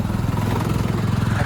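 A tractor engine driving past on a village road, a close, loud, rough chugging drone with a rapid steady pulse throughout the short moment.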